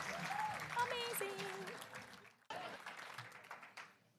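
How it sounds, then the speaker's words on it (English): Audience applause at the NBA Foundation All-Star pitch competition, a moderate clapping wash from a crowd heard under a speaking voice, briefly dropping out before resuming. "Please give Katara McCarty a round of applause."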